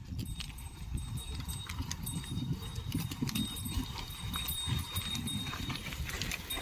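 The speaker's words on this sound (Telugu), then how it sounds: "చూడండి ఎద్దులు." Bullocks plowing a field make soft, irregular hoof thuds and faint scuffing that go on for several seconds, quiet and a little distant, with no talking.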